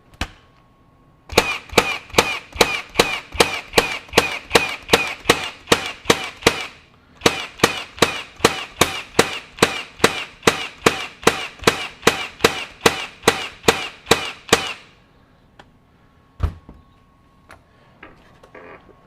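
A FLEX 24V brushless 18-gauge brad nailer drives brads through 3/4-inch stock into a 2x4, producing a long run of sharp, evenly spaced clacking shots with a brief pause partway through, then a couple of stray knocks.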